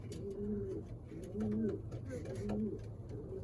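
Racing pigeons, including a white grizzle cock and a blue check, coo softly in a loft after a 300-mile race, with low repeated coos pulsing under steady background noise.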